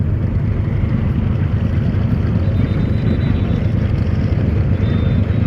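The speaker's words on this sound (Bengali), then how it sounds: "এমভি মানামি বের হওয়ার সাথে সাথেই দেখতে পাচ্ছি অ্যাডভেঞ্চার 9 লঞ্চ ব্যাক গিয়ার দিল" Passenger river launch Adventure 9 goes into reverse at Sadarghat, its engine a loud, steady low rumble and drone that fills the whole stretch, close by and unbroken.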